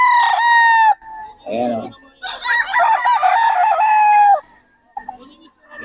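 Roosters crow loudly and chickens cluck close by at a poultry seller's stock in Bocaue, with someone speaking briefly between the calls.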